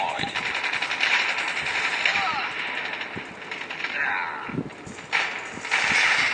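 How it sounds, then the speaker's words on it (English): Automated sentry gun firing in a Call of Duty multiplayer match, rapid mechanical bursts of gunfire mixed with clattering game sounds and a voice speaking over the action. "Sentry gun deployed."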